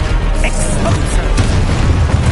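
An Expulso explosion spell in Hogwarts Legacy, a loud deep boom with a rumbling burst that fills the short moment, close and heavy.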